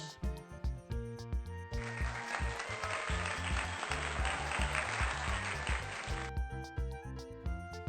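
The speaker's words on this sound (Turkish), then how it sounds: "Sahneye çıkan tiyatrocular izleyiciler tarafından alkışlanırlar." A theatre audience applauds actors on stage, a dense burst of clapping lasting several seconds that rises and fades over a steady musical background.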